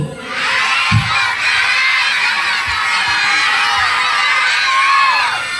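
A crowd of young voices shouting and cheering together at a neighborhood anniversary event in Sukadami, loud and continuous, with a few thumps underneath.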